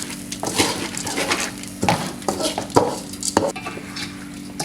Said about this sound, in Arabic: نقلبهم مع بعض